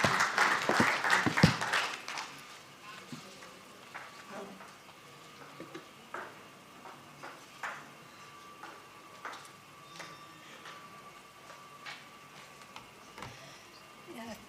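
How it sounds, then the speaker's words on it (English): Conference audience applause for a speaker at a business management and innovation event, loud and dense at first, then thinning into scattered individual claps and taps that taper off. "And let us give a round of applause for Dr. Pauline Paul."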